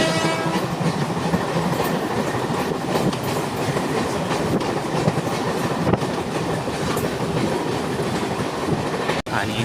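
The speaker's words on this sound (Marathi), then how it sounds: "ॲक्च्युली ही ट्रेन वसईपर्यंतच होती." A fast Mumbai local train runs toward Vasai, its loud steady rumble and clickety-clack heard from on board, with a horn sounding briefly and no talk over it.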